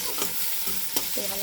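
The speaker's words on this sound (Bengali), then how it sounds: "ভালো করে ভাজা ভাজা করে নিই।" Vegetables with tomato, salt and turmeric frying in a pan, a steady close sizzle with a few stirring scrapes and clinks, no talk.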